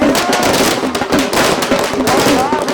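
Firecrackers crackle and pop in rapid, dense bursts as a scaled-down Ravana effigy burns at a Dussehra event in Ujjain, loud and continuous, with voices mixed in underneath.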